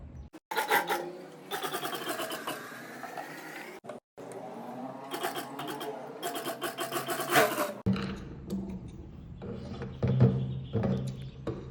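A sewing machine runs in bursts, stitching blouse fabric for a neck-to-waist dart blouse, its motor whirring steadily and close with a brief pause before a quieter, rougher stretch.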